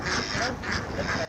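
Domestic ducks raised on a farm in Paxtakor district quack together in a loud, close, overlapping burst lasting just over a second before cutting off.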